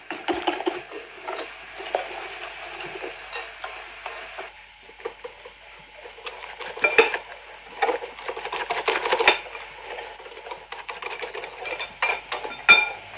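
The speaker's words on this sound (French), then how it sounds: "Et maintenant, je vais mélanger." Spoon stirring a mushroom, fresh goat cheese and spinach tart filling seasoned with salt and ground pepper in a bowl, making steady scraping and tapping clinks with a few sharper knocks, close and without talk.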